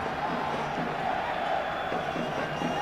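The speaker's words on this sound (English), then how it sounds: "Loud cheer from the England contingent." England supporters in a World Cup stadium crowd at the 2002 England v Nigeria match keep up a steady, continuous roar of cheering and crowd noise for the whole stretch, loud and unbroken.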